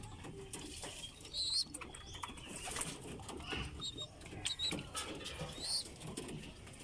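Pigeons in a loft, breeders and flyers being given plain water, coo softly and repeatedly with occasional wing flutters and rustling close by, with no one talking.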